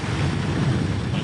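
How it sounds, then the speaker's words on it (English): A sailboat's engine drones at sea under wind buffeting and wash of waves, a steady low rumble with no voices. "We have the engine on. You can probably hear it."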